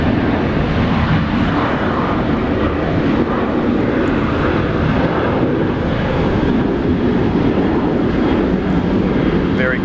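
An airliner lands at Brisbane airport in heavy rain, giving a continuous loud roar of engines and rushing wind and rain that masks detail. Voices are faint and muffled beneath it.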